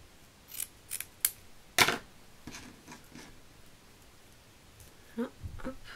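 Scissors snip through a piece of jute fabric at a craft table, a few crisp close cuts, with one louder chop near the middle and softer rustles and snips toward the end.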